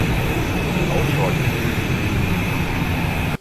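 An F/A-18 Hornet's jet engines whine and roar steadily while taxiing in the Falcon BMS flight simulator, a loud constant drone with a high tonal whistle that cuts off abruptly at the end.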